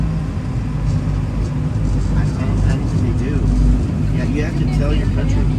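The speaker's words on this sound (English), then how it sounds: "Now the propeller of this vehicle is just engaged, right?" An amphibious duck tour boat cruising on a Boston river with its propeller engaged, a steady low engine drone and water rush running throughout beneath a guide talking.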